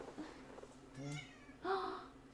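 A cat meows close by indoors, two drawn-out calls, the second louder and longer, with faint voices in the background.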